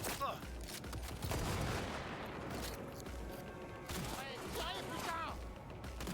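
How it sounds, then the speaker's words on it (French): Shotgun fire rattles through a busy firefight in the video game Cyberpunk 2077, with repeated blasts and other gunfire mixed into the dense, low-level game sound. "Je prends mon pompe moi, plutôt."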